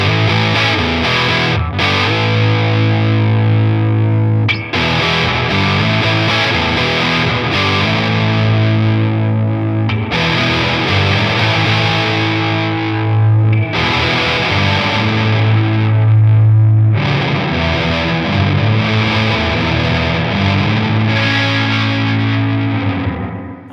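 Electric guitar played through a Walrus Audio Melee pedal set to half distortion with minimal reverb mix, giving a loud, sustained, saturated chordal wash with steady strummed phrases and brief gaps, no talking.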